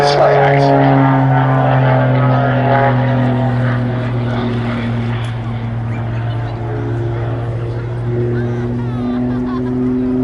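A Pitts Special aerobatic biplane performs a flying display at the Duxford summer air show, its propeller engine a loud sustained drone with shifting pitch, overlaid by a commentator talking.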